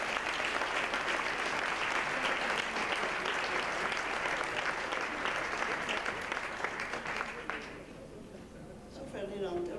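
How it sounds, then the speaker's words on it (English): An audience claps for an anniversary at a LaMovida open house, steady applause filling about eight seconds before fading, then a voice begins speaking. "So that's an applause, don't you think so?"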